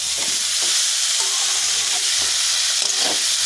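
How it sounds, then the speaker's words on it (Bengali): Figs and spices for a fig and prawn dish sizzle loudly in a pan, a constant close frying hiss broken by regular scraping strokes of a spatula stirring the mixture. "ভালো করে কষিয়ে নেব মশলার সঙ্গে"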